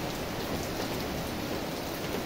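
Morning rain pours down as a steady, dense hiss that stays even and close throughout, with no voices.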